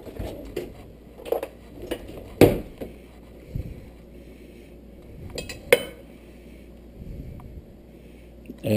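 A metal spoon scrapes and knocks against a dish while stuffing filling into a milkfish for rellenong bangus. Scattered clinks and dull taps come at an irregular pace, two of them sharp and louder, close by with no talking.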